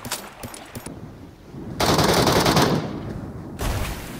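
Rapid machine-gun fire in a mobile battle-royale shooter, with short bursts of shots at first, then a long loud sustained volley, a pause, and another burst near the end.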